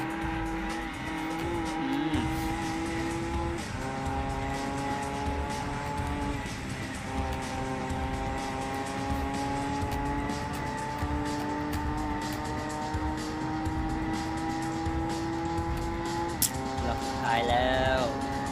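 A Nissan GT-R race car engine in Gran Turismo 2 screams continuously at high revs, shifting pitch through gears, with brief tire squeal near the end.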